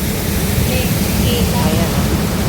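Artificial waterfall at Central Square in BGC, a loud, close, steady rush of falling water filling the whole moment without pause.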